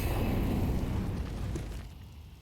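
Smoke grenades land deep on Banana in a Counter-Strike match on Inferno, an ESL Pro League playoff game, releasing a loud broadband gushing hiss that fades steadily over a couple of seconds.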